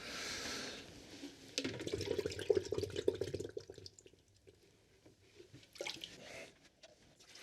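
Water pours and splashes into a large plant propagator in a chilli-growing setup, a steady running fill with drips and sloshing, loudest in the middle stretch and fading to quieter trickles near the end.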